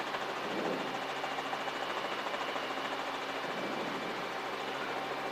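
Helicopter on final approach to a runway, a steady, faint broadband rotor and engine roar heard from inside, continuous with no talking.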